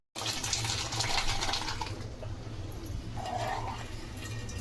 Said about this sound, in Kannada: ಇವಾಗ ಇದು ಒಗ್ಗರಣೆ ಮಾಡ್ಕೊಂಡಿದ್ದೆ ಬಾಣಲೆ, ಇದಕ್ಕೆ ಹಾಕ್ಬಿಡೋದು.